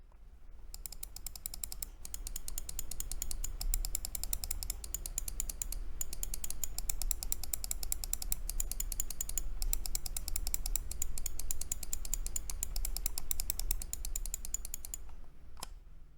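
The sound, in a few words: Logitech G305 gaming mouse button clicks, sound test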